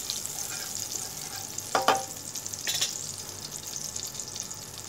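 A tablespoon of butter melts in hot oil in a pan, a soft, steady sizzle with a couple of brief clicks and scrapes partway through.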